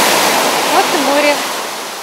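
A steady wash of moderate surf rolling onto the shore at Golden Sands beach, with faint voices and a few squeaky tones briefly heard over the waves.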